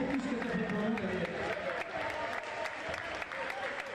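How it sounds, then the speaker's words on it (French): Spectators at a wheelchair basketball game, Hornets Le Cannet versus Chalon, applaud a man being honoured. The clapping is fairly quiet and continuous, with crowd voices mixed in. "j'aimerais qu'on l'applaudisse, Daniel Dupé"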